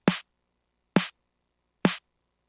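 Three separate hits of a homemade, harsh-sounding snare drum sample, each a short sharp crack with a brief noisy tail, spaced about a second apart with silence between.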